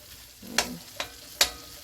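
Shrimp being stirred in a frying pan: three distinct scraping strokes at close range over a faint, quiet sizzle, with no talking.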